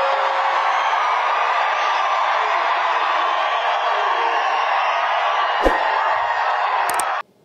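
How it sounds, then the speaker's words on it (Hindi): A dense, steady crowd roar fills an event in Hyderabad honouring Madhavi Latha, with shouts and whoops blended into a loud continuous wash that cuts off abruptly at the end. "माधवी के लिए सब लोग ताली बजाओ भाई"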